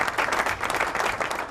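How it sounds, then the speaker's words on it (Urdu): An audience at a Quaid-e-Azam Day special programme breaks into dense, loud applause welcoming a speaker to the stage, with many hands clapping continuously. "بہت سی تالیوں میں پلیز، تھینک یو"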